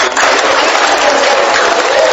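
Audience applause in a television studio during a technology magazine show in Benin, loud, dense and continuous for a couple of seconds, with no voices over it.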